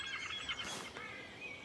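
Outdoors, a bird gives faint chirping calls over a steady background hiss, close enough to pick out but quiet.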